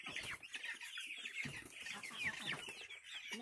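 Young chickens cluck and chatter in a farmyard at morning feeding, a busy overlapping flock close by with soft scratching and shuffling beneath.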